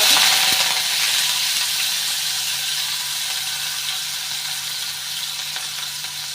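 Finely chopped onions fry with cumin seeds in a pan on a low gas flame for pumpkin curry, producing a steady, close hiss and sizzle that fades slightly over time, with no voices.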